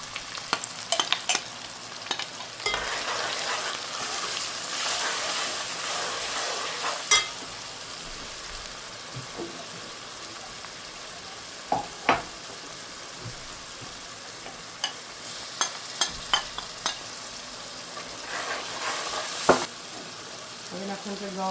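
Tomato, green onion and masala fry in a pan, giving a steady sizzle broken by scraping stirs and a few sharp clinks from a utensil, with some quiet talk at points.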